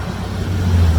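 Heavy trucks rumbling past on the road, a deep engine drone that swells louder over one second as a vehicle draws near, with no talking.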